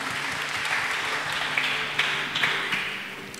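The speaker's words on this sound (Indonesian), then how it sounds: "Just give Jesus a mighty hand clap." A church congregation claps hands together during a worship service, a dense, steady wash of applause with a few sharper individual claps standing out, fairly loud and sustained throughout.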